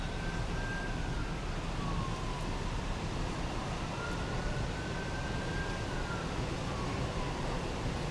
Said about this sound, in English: There's an ambulance going